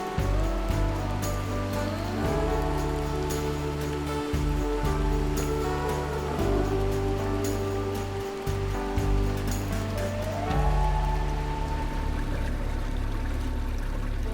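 Water pours into a lock chamber on the Erie Canal that fills over ten minutes to rise 25 feet, a constant rushing roar with steady low mechanical hum and tonal drones throughout.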